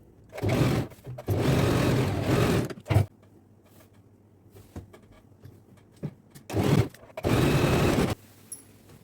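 A sewing machine stitches lehenga fabric for a baby girl's traditional outfit, running in four loud bursts of about a second or two each, separated by quiet pauses with faint handling noise.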